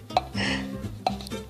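A drinking glass clinks against a hard surface during a crochet demonstration: two sharp, bright clinks about a second apart, close to the microphone, with some soft handling rattle between them and no talking.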